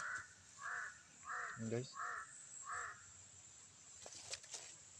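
A captured crow caws five times in a steady series, fairly close, with a voice speaking briefly between the calls and some faint background noise.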